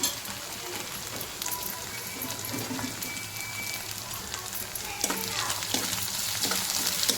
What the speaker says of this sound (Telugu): బాగా వేగాలి పచ్చిమిర్చి కూడా.